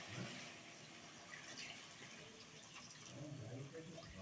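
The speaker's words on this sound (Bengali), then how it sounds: "এবার আমি এতে দিয়ে দেবো পরিমাণ মতো জল।" Water being poured into a cooking pan of potato, ridge gourd and stem curry, a faint, steady splashing trickle heard alone throughout.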